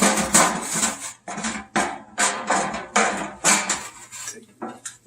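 A metal utensil scrapes a cooking pan while beef stock is being made, in a series of short rhythmic strokes with brief pauses between them, close and clear.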